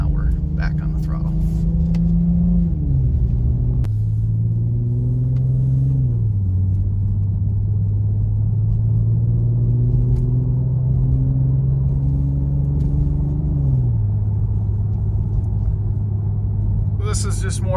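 Infiniti Q50 engine pulling under throttle from inside the cabin, with a low rumbling drone that climbs in pitch several times and drops at each paddle upshift, heard under continuous talking.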